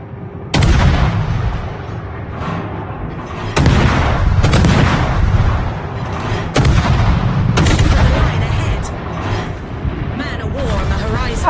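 Repeated heavy naval gunfire and exploding hits in a warship battle video game, several loud booming salvos spaced a few seconds apart with rumbling decay, with voices talking over the action.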